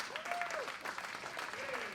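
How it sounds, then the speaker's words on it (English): Audience applause for a Broadway revue cast at a spring celebration, a faint, even patter of clapping heard at a distance, with brief voices and a whistle-like tone rising above it. "Would our whole cast come up here so we can get a big round of applause for everyone?"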